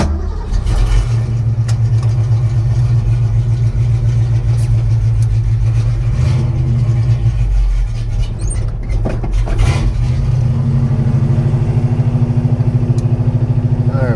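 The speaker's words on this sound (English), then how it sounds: "backing out of a driveway, full turn" A 1968 Ford Mustang with new coilovers backs out of a driveway on a full turn, its engine idling loudly with a steady low rumble and a brief rise in revs, close by with no talking.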